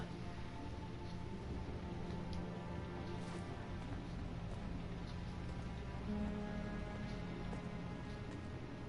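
Steady rain pours down in the video game Heavy Rain, a dense, even hiss of falling water with faint drips and no breaks, fairly soft overall.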